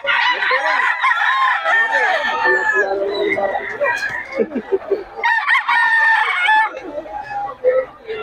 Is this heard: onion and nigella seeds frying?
no